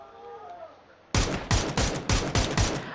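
Gunfire in an online shooting video game: after a quiet stretch with faint background tones, a rapid burst of loud shots rings out, about six evenly spaced cracks in quick succession, close and dominant.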